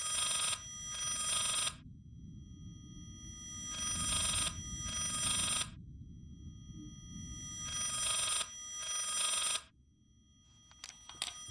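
An old-fashioned telephone bell rings in the Layers of Fear horror video game, sounding in three evenly spaced bursts of rapid double trills with quiet ambient rumble between the rings and no talking.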